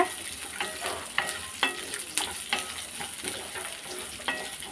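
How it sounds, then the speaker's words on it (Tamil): Coconut pieces saute in a pan with onion and green chilli, a soft sizzle broken by repeated stirring scrapes and taps about every half second, with no talking. "தேங்காயும் சேர்த்து நல்லா வதக்கிக்கோங்க"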